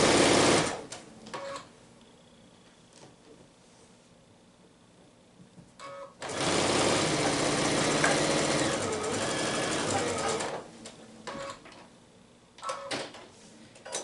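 A sewing machine stitches a fabric seam with right sides together, running in two loud steady bursts separated by a quieter pause, close up with no talking.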